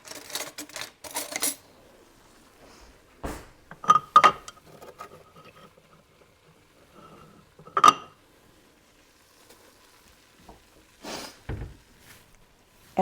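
A teaspoon and other kitchen utensils clink in scattered, sharp metallic taps and clatters, some close and bright, separated by quiet pauses.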